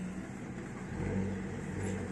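An Audi A3 turbo with 180 hp drives by, its engine a low, steady rumble with road noise that swells slightly partway through, heard faintly from a distance.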